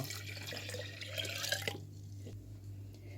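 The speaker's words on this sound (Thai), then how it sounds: "เราจะเทน้ำลงไปเลย 800 ml" Bottled drinking water pouring into a jar while making longan tepache, a steady splashing trickle for about a second and a half that stops abruptly, leaving a quiet room hum.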